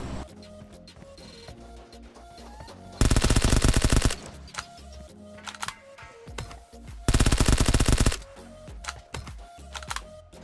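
PUBG Mobile gunfire: two loud bursts of rapid automatic fire, each lasting about a second, over a quieter background of in-game footsteps, clicks and scattered single shots.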